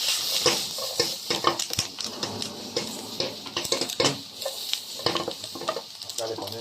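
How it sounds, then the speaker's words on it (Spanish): Vinegar splashed into a sizzling Peruvian gizzard stir-fry in a hot pan: steady crackling sizzle with clattering utensil stirring and scraping, close and continuous, with a voice talking faintly underneath. "Echamos un poquito de vinagre,"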